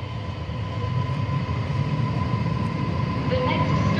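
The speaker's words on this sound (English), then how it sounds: "The special rapid airport train for New Chitose Airport" A JR Hokkaido Chitose Line special rapid airport train for New Chitose Airport rumbles steadily with a constant low roar and a faint high whine, heard from inside a carriage as it departs Shin-Sapporo Station.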